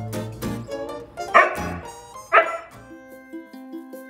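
A pair of young Siberian husky siblings bark twice sharply and loudly at close range, then whine and whimper in drawn-out, wavering tones.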